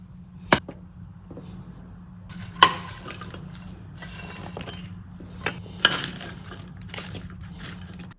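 Crushed digestive biscuits, melted butter and popcorn are mixed in a pot, with soft scraping and rustling broken by four sharp clinks of a utensil against the pot rim.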